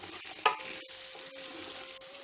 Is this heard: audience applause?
no